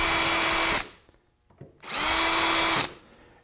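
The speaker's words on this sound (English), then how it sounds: "Now we can drill for our screws and mount up the hinge." Two bursts of a power drill whirring at high speed while drilling screw holes for a cabinet hinge, each about a second long, separated by a short pause with a faint clunk.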